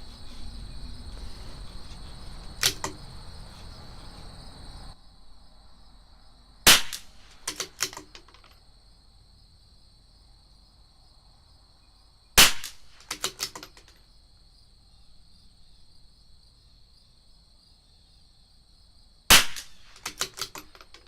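A CZ457 .22 rimfire rifle firing Eley match ammunition: four sharp, loud shots spaced several seconds apart. Each is followed by a few quieter mechanical clicks, over a steady background of insect chirping.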